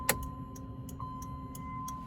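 Inside a 1993 Chevy Lumina APV, the turn signal relay ticks in a steady, even rhythm, about three clicks per second, crisp and close over a low hum.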